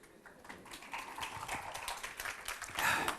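A conference audience claps for a speaker talking about starting Agile in a company, giving a faint, scattered patter of hands heard from a distance that swells slightly toward the end.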